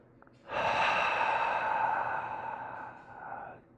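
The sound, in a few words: breathing out through the mouth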